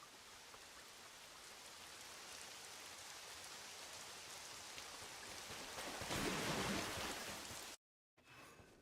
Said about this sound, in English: So the rain has taken this world, it seems.